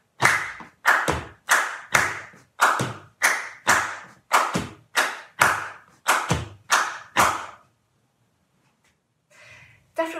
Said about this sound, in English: Keep the feet going, let's add the hand clap.